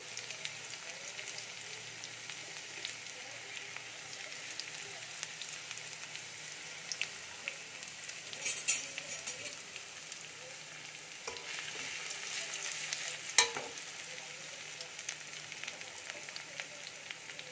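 Chopped garlic and ginger fry in oil in a pan for a chilli paneer gravy, giving a soft, steady sizzle with occasional stirring scrapes and clinks, close but quiet, with no talking.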